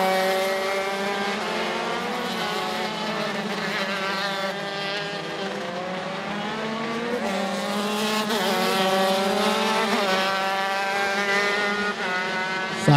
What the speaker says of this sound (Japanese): 押し掛けでエンジンを始動させまして